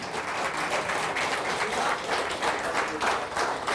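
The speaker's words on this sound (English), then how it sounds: "how about a round of applause for Danny Malfatti?" A crowd at an awards banquet gives a round of applause, sustained, dense clapping that swells and holds for several seconds without talk.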